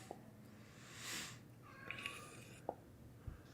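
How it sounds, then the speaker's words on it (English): A cat meows indoors, one drawn-out faint cry followed by a couple of shorter calls, heard against a quiet room with a few soft knocks and thumps. "now the cat's starting up"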